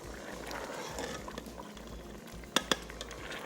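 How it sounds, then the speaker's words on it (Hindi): Rice boils in a pot with a soft, steady bubbling and simmer, quiet and close, with two brief metallic clinks near the end and no talk. "अभी अच्छे से ये बॉयल हो रहा है"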